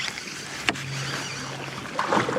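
A V-shaped kayak pushes through lily pads in the rain, with a sharp paddle knock, a steady swishing and scraping of the hull against the vegetation, and a splashy stroke near the end, close up.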